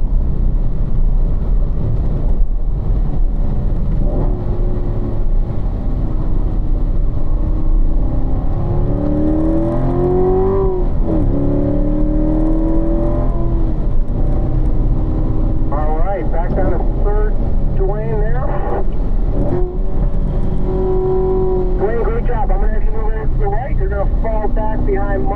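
A car on a race track after a downshift to second gear, its engine droning loud and steady, with pitch rising and falling through the corner. A person talks over the engine throughout.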